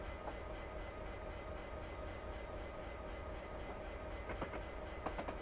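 A train in a simulator on the Settle to Carlisle line rolls steadily on rails, a continuous low rumble with faint rhythmic clicks toward the end, moderately loud and without talk.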